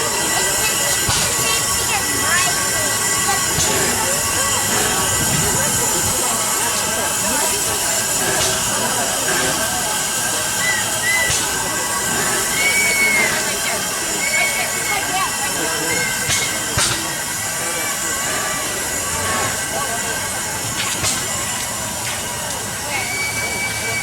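Steam train rolling along rails on the Fillmore line, a steady rumble and hiss with occasional wheel squeals and clanks, heard close with people talking over it.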